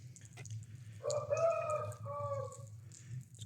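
Roosters for sale crowing with a few clucks, a loud drawn-out crow standing out over steady low farmyard hum, with no speech.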